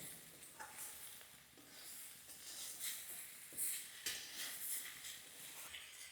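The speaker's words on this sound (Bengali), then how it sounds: "এইরকমভাবেই বেগুনগুলো আলু দিয়ে ভাজতে হবে।" Potatoes and eggplant fry in oil in a pan, giving a steady soft sizzle with occasional stirring scrapes, moderately close and fairly quiet, with no talking.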